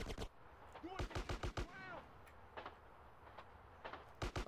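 Gunfire in the video game Grand Theft Auto San Andreas comes as quick, sharp bursts of shots scattered through the clip. It sits fairly faint against quiet game sounds, with no speech over it.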